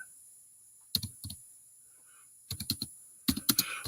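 Typing on a computer keyboard comes in three short bursts of crisp close key clicks separated by quiet pauses, over a faint high electronic hum.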